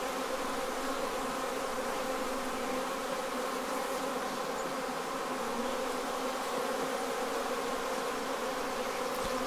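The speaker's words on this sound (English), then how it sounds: "So we have a very healthy colony of bees here." A strong, healthy honey bee colony buzzes loudly and steadily during an open hive inspection, a dense continuous drone that fills the whole stretch with no pauses.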